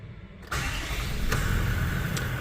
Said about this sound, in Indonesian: Untuk nyalainnya masih kunci putar, dan sebaiknya kita injak ke kopling juga ya biar aman. Dan yuk kita nyalain mesinnya.